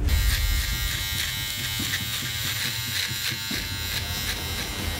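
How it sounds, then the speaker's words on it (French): An electric razor shaving off a beard buzzes loudly and continuously close up, with a rough, grinding texture throughout. "j'ai avec moi un rasoir électrique"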